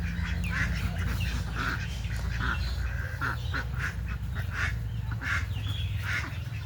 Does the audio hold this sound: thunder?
no